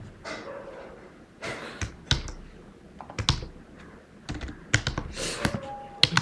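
A prompt is typed on a computer keyboard in close, crisp bursts of clicking keys, with short pauses between the runs of keystrokes.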